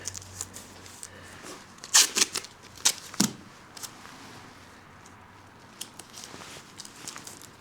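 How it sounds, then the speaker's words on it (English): Close-up crackly tearing and sticky peeling of masking tape applied around a HMMWV tire edge, several quick bursts with quieter handling noises between. "I'm going to tape around the edge just so I don't paint all over my tires"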